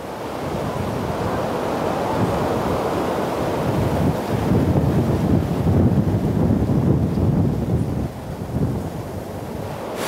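Waves wash steadily onto a natural Caribbean beach near Nelson's Dockyard in Antigua, a loud continuous surf roar with gusty wind buffeting the microphone and no voices.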